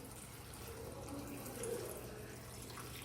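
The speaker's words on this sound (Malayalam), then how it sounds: "വീണ്ടും നമ്മൾ വെള്ളം ഒഴിച്ച് കൊടുക്കണം." Water poured into a cooking pot while preparing French fries, a quiet continuous trickling stream lasting the whole moment, faint and alone with no talk.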